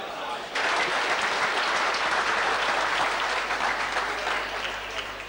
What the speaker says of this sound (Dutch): u kunt ze natuurlijk van harte verwelkomen met een geweldig applaus, zoals dat hoort.